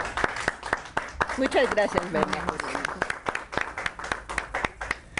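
Audience applause welcoming a speaker to a talk on lesbian masculinities, clapping steadily from the room while a voice speaks over it.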